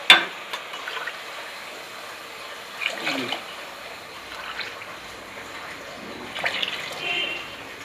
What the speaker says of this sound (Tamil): அஞ்சு டம்ளர் தண்ணி ஊற்றிட்டேன்னா